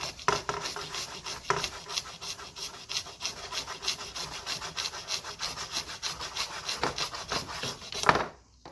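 A saw blade cuts through PVC pipe for fur trapping sets, giving a steady rasping back-and-forth stroke close up with no talking and a sharper scrape near the end as the cut finishes.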